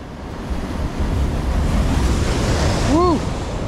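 Ocean surf breaking on the shore in Lima, Peru at early morning, a steady broad roar of waves mixed with wind buffeting the microphone, with a brief whooping voice near the end.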